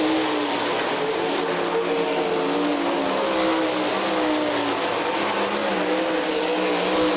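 Sprint cars race on a dirt track at Eldon, Iowa during a Sprint Invaders A-main, their engines roaring in a loud, continuous wall of sound with shifting revs as the pack circulates.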